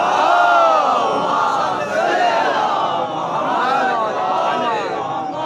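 A large crowd at a mourning gathering for the martyrdom of Imam Reza recites salawat loudly in unison, a dense, continuous chorus of voices with rising and falling swells close to the listener.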